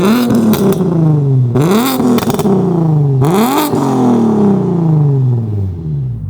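A car engine fitted with a single eBay turbo kit revs loud and close, rising sharply three times and falling away after each rise, with a raspy, whirring exhaust tone throughout.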